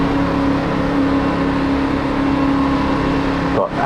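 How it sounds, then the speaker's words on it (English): A race car engine drones steadily at a constant pitch during an ANZCAR oval race at Phoenix, loud and close, then drops briefly at the very end. "Let's listen to the engine."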